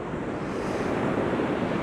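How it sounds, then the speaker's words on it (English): Sea waves crash and wash onto the shore in a continuous, loud, broadband roar with some wind buffeting, unbroken and without voices. "There's a line appearing where the waves are coming up and they're all sort of hitting"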